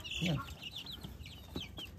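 Free-range parent stock chickens cluck in a pen, with several close, soft clucks and chirpy calls in irregular bursts over a busy farmyard background.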